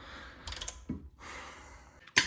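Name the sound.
wrench removing pinch bolt on BMW E60 front strut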